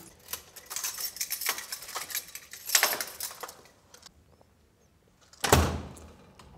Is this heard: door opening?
yes